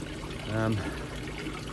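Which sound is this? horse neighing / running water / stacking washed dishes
running water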